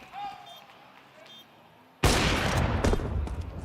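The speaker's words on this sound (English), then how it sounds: "It's a shot through the wall." A sharp, loud gunshot from a Counter-Strike esports match fired through a wall bursts in after a quiet stretch of faint game tones, followed by ringing reverberant fire and clatter.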